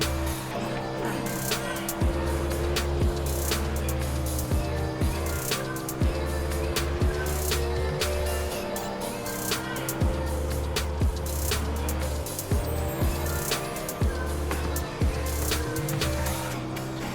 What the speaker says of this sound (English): This lap, I'm going to use full throttle all the way around the track